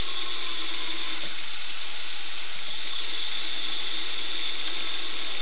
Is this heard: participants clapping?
no